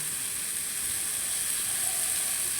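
Tomato frying in a pan for vermicelli upma, a steady, fairly loud sizzling hiss that runs evenly throughout with no pauses.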